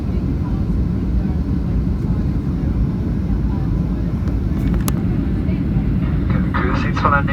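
Steady, loud low-frequency roar inside the cabin of a Ryanair Boeing 737-8AS on final approach with spoilers deployed, continuous engine and airflow rumble, with brief faint speech near the end.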